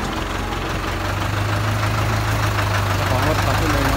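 A Ford 6610 tractor engine idles with a loud, steady low diesel rumble and a constant hum that does not vary, while someone speaks over it.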